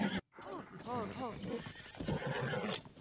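A horse in the video game Zelda Tears of the Kingdom lets out a loud, close whinny over clip-clopping hooves.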